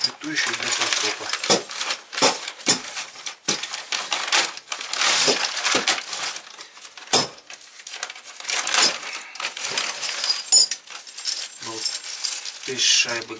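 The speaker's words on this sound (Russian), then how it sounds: "Пакет комплектующих для фаркопа." Metal parts from a towbar hardware kit for a 2020 Hyundai Creta, including washers and fittings, clink and rattle as they are handled, giving a busy, close, uneven jangle of small metal pieces that runs throughout.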